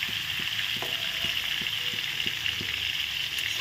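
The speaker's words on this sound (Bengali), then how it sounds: "আস্তে পটলগুলো ভেজে দিচ্ছি।" Whole pointed gourds (potol) fry in oil in a pan, a continuous close sizzle with soft crackles and occasional stirring taps.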